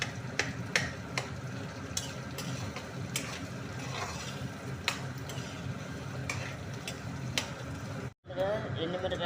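Onions frying in a pan for a ridge gourd and garlic chili dish, a continuous sizzle broken by repeated sharp scraping strokes of a stirring spoon, with a brief cut near the end.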